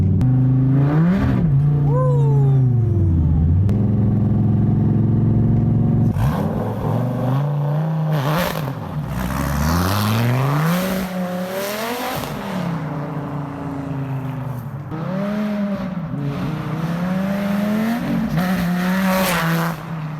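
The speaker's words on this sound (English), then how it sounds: "Man, that is the craziest flyby we have done yet." A 2014 Dodge Viper TA time-attack car makes a loud flyby, its engine revving hard and rising and falling in pitch through repeated accelerations and shifts as it passes close by, with no talking.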